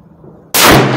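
A Ruger American Go Wild .308 rifle fires one loud, abrupt shot at a 100-yard outdoor range, a sudden blast that breaks a quiet moment and rings on through to the end.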